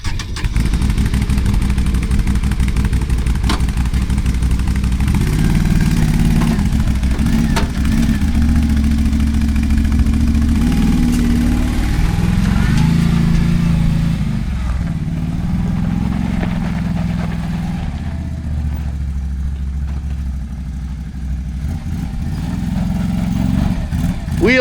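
2022 Can-Am Outlander 570 MAX ATV engine running nearby, a continuous loud idle with wavering revs that rise and fall throughout, easing off near the end before picking up again.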